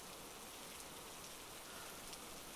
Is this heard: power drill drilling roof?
no